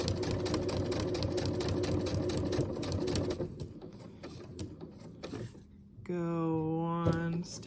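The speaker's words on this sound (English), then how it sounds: "stitch straight down that line" Sewing machine running steadily for a few seconds while stitching a straight line in foundation paper piecing, then stopping; a brief clatter and a louder tonal hum follow near the end.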